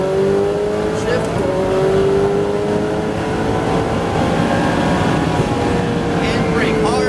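A Ferrari 488 Challenge race car accelerating on track, its engine note climbing steadily in a loud sustained whine, with a coach's voice speaking over it.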